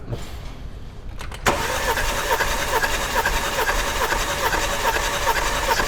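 A BMW N20 engine in a 328si cranks over for a compression test on cylinder 2. After a quiet start, a loud, steady, even churning begins abruptly and continues to the end.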